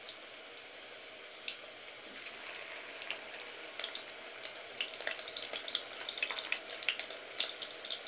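Moong puli pitha frying in hot oil, a quiet, steady sizzle with scattered small pops and crackles that grow busier toward the end, close by with no talking.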